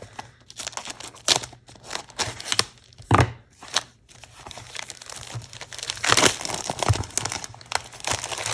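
Scissors snip and packaging crinkles and tears up close, in irregular bursts of cutting and rustling with short pauses between.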